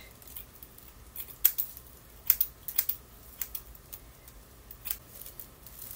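Quiet, irregular snips of scissors cutting synthetic hair, a few sharp clicks scattered over several seconds against a faint background hum.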